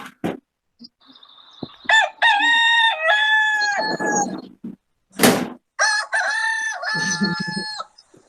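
A rooster crows loudly and close by, two full cock-a-doodle-doo calls with a few clucks and thumps between them.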